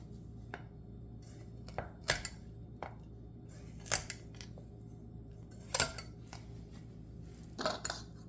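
A knife cuts carrots into even pieces on a cutting board, a scattering of sharp, quiet taps and thuds at irregular intervals over faint room hiss.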